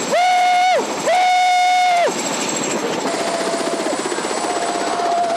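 A helicopter setting down at the Les 2 Alpes ski resort opens with two loud, rising and falling tonal whines, then settles into a steady, rhythmic rotor beat.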